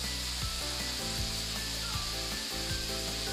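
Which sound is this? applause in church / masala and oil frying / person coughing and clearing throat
masala and oil frying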